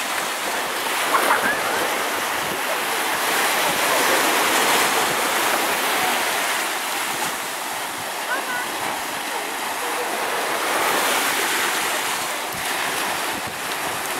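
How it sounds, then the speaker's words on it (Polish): Sea waves on the Baltic shore near a peninsula, meeting and crossing as they roll in, give a steady broadband wash of surf with wind noise, continuous and fairly loud throughout without pauses. "O, jak się fale spotykają."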